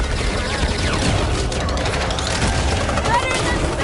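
Fireworks attack from Rocket in the Guardians of the Galaxy video game: a dense, continuous barrage of crackling, popping bursts and booms during combat, with character voices mixed in.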